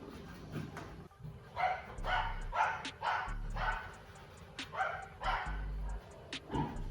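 Several dogs, a puppy and older dogs, bark and yip in short bursts through playful roughhousing, fairly close and lively, with brief pauses between volleys.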